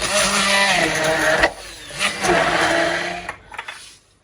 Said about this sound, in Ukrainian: І тепер перебиваємо блендером до однорідної консистенції